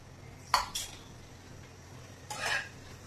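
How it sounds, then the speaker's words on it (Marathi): Grated coconut is dry-roasted in a pan, heard as a few metallic scrapes and clinks of a spatula against the pan, close by, separated by quiet gaps. "आता आपण खोबरं भाजून घेऊया।"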